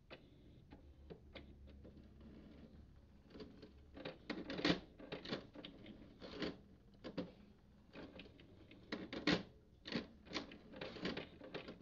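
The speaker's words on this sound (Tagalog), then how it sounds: "may maririnig kang humahampas sa loob ng printer parang nagwawala" Irregular mechanical knocking and clattering from inside a faulty HP Deskjet Ink Advantage 2676 inkjet printer showing error E3, a series of sharp bangs and ticks of varying loudness, fairly close, with no talking.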